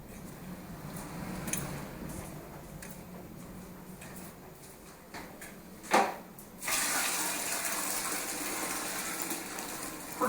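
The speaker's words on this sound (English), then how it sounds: "it's time to dump the old bucket" Dirty gray water from a Rug Doctor carpet cleaner's recovery bucket gushes out into a drain, a brief splash followed by a steady loud pour after quieter handling noises.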